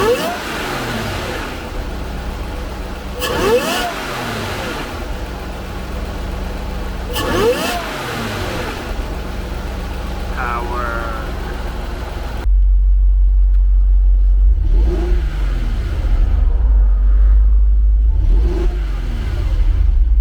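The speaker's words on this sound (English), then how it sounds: "Well, you can definitely hear the supercharger" A Jaguar XJR's supercharged engine fitted with a Mina Gallery intake revs up repeatedly in sharp bursts that rise and fall, first loud with a steady background hum, then in a quieter stretch with further blips.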